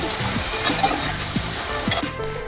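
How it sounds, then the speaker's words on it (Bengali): A spoon stirs turmeric through sizzling oil in a pan for Bengali khichuri, a short close burst of frying with a few quick scraping strokes and light clinks. "হলুদটা দিয়ে দিলাম, নাড়াচাড়া করি।"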